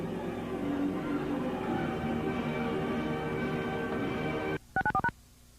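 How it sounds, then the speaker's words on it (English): A steady telephone dial tone hums on its own for several seconds, then cuts off into a quick run of four or five sharp touch-tone dialing beeps, no talking. "what is up with the dial tone?"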